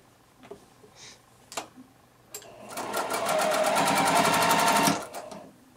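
A home sewing machine stitching pieces of a tulip quilt block: a few light clicks and taps, then a steady fast motor whir with rapid needle chatter for about two seconds before it stops, close and alone.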